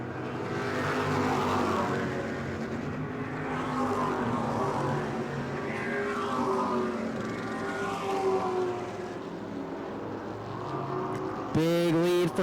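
E-Mod race cars lapping the New Smyrna oval, a continuous loud engine roar rising and falling as cars pass, with a brief sharper whine near the end.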